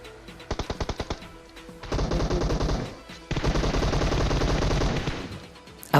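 Automatic gunfire in PUBG Mobile: a short run of separate shots, then two long sustained bursts of rapid machine-gun fire, loud and close, followed by one final sharp report, with no talking.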